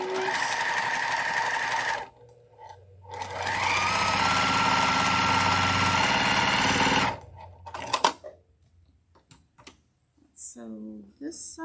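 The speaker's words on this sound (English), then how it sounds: "Sew this side on." A sewing machine stitches a seam in two sustained runs of steady, rapid mechanical whirring, loud and close, separated by a short pause, followed by scattered quiet handling clicks and brief voice sounds.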